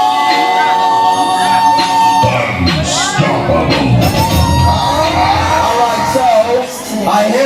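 A talent show crowd at a mall cheers, whoops and shouts loudly and continuously, with children's yells and tonal music mixed into the noisy, excited din.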